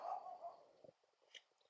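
A dog gives a few faint, short barks and yips at a distance, quiet and brief, with a soft whine near the start.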